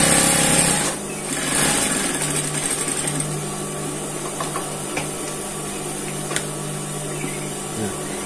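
High-speed sewing machine stitching thin fabric, a steady close whirring drone after an initial louder burst, running alone with no voices.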